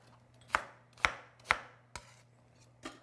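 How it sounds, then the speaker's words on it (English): An onion being chopped roughly with a knife on a board, five sharp close thuds spaced about half a second apart. "I chop my onion nice and roughly."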